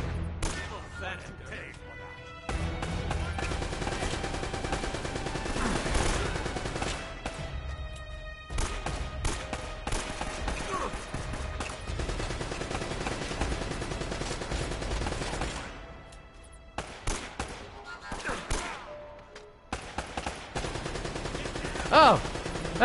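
Machine gun bursts and gunfire from Uncharted: Drake's Fortune, sustained and loud across most of the stretch with brief gaps and a sharp heavy hit near the end, a voice talking over parts of it.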